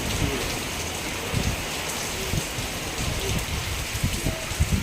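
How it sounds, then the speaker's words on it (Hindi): A heavy downpour of rain falls outdoors as a dense, continuous hiss, with scattered louder drops and taps striking nearby surfaces. "अभी ज़ोर से बारिश होने लगी है।"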